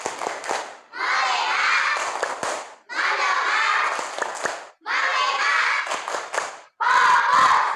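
Elementary schoolchildren in a classroom perform the 'tepuk fokus' clapping chant, four loud bursts of shouted chanting mixed with claps, each separated by a brief pause, voices close and energetic.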